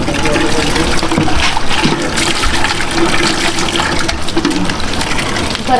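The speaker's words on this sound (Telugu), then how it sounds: "వంపు వంపు నీళ్ళు" Water pours in a loud, continuous, close rush with gurgling and splashing, as when rinsing garlic during cooking prep.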